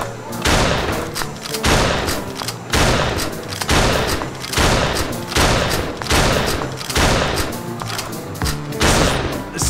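Rapid, loud gunshots from a cocked gun in the Pierhead Arcade VR shooting game, firing in a steady repeated rhythm of sharp bursts close up, with no talking.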